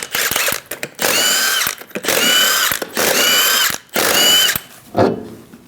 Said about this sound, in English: remove the 5 lug nuts.